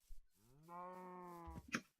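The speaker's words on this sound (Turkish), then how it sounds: "O burada da inekler varmış ya." A single Minecraft cow moos in a long, low, drawn-out call, fairly faint, followed by a couple of soft clicks.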